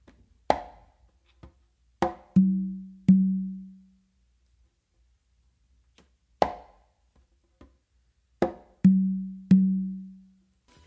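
Congas play a modern funk groove very slowly. Sharp slaps and soft ghost notes fall sparsely in two phrases, each ending on ringing low open tones. The drums are close, clear and alone, with silence between the strokes.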